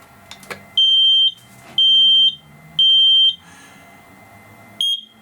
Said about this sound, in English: that confirms that the smoke alarm is working correctly